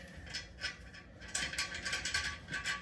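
A wing nut spun by hand onto the bolt of a Glacier Bay Power Flush toilet, a quick series of small metallic clicking, ratcheting ticks in short close bursts, with no talking.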